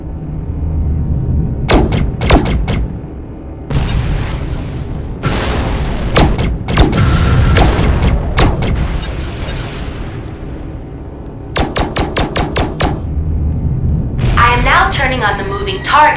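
Mines blow up under weapon fire in a space combat game, with repeated loud booming blasts and bursts of rapid shots separated by short gaps, alongside synthetic game effects and a voice speaking.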